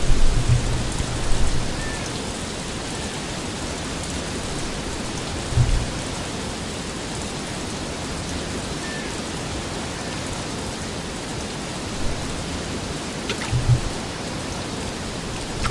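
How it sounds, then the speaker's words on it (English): Steady rainfall in the video game Harvest Moon A Wonderful Life, a constant hiss of drops with occasional soft low thumps of distant thunder, moderately loud and even throughout. "I'm kind of surprised this rain is holding out on us, actually."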